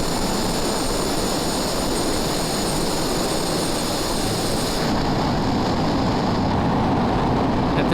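Steady loud drone of an airplane engine in Microsoft Flight Simulator 2020, continuous and close throughout, with a slight shift in tone partway through and no talking.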